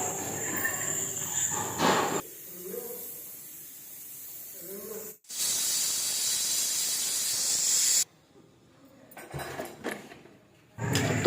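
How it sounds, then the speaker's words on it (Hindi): A pressure cooker on the stove cooking shalgam gosht (turnip and meat) lets out loud, sustained hissing steam bursts, with quieter stretches between releases and an abrupt cutoff as one hiss ends. "अब 4 से 5 सीटियां हमें कुकर में देनी है।"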